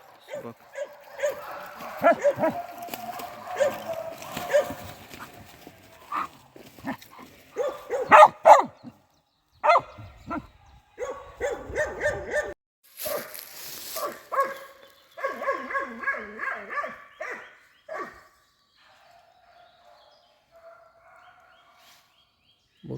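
Young Laika hunting dogs barking and yipping at a badger hidden in a brush pile during a field trial, sharp barks in irregular bursts, some near and some farther off, with someone talking among them before the sound fades out.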